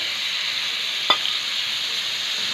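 Beef kidneys seasoned with salt and black pepper cook in a pan with an even, hissing sizzle and one brief click partway through.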